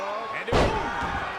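A wrestler's head slammed onto the ring canvas, one sudden heavy thud midway that booms and fades, with a commentator talking throughout.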